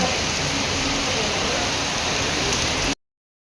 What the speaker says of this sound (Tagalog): nagunong na jud ang ulan